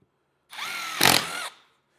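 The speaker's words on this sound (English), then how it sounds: "I've got a 3/8 bit here in my Milwaukee drill, and we're just going to drill these holes." A Milwaukee cordless drill with a 3/8 bit whirs up loudly for about a second, its pitch rising as the bit bites in, then spins down and stops.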